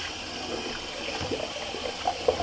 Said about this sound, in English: And just rinse that off the old hands.